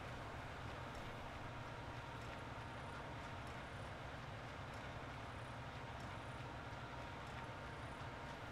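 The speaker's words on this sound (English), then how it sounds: "Train." A train rolls along the rails in the video game Farming Simulator 19, with a steady rumbling clatter over the whole stretch and faint high squeals recurring above it, moderately distant and without talk.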